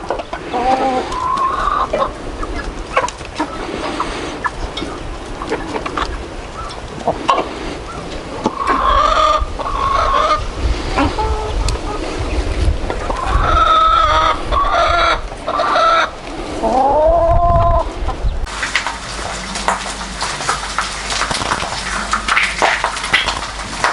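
Laying hens clucking and squawking in a coop, a steady chorus of overlapping calls close by, with occasional louder crowing-like cries rising above the flock.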